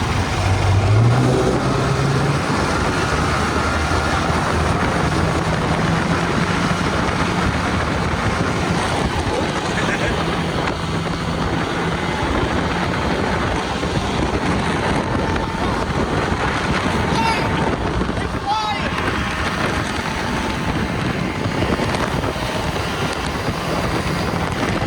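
The propeller engine of a model military flying boat drones loudly and steadily for the whole stretch, mixed with heavy wind buffeting on the microphone and water noise, while people talk faintly at times.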